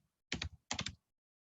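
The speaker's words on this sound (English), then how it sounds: "I'm going to just start typing Austin" Two quick bursts of typing on a computer keyboard, each a cluster of sharp, close key clicks, separated by a brief pause.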